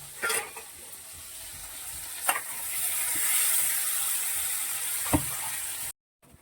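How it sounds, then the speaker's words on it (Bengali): Tomato frying with spices in a pan: a steady soft sizzle punctuated by a few sharp stirring clinks, heard close and fairly faint, ending in brief silence. "টমেটোটা একটু ভাজা ভাজা করে নিয়ে এবার এই মশলাটা দিয়ে দেবো।"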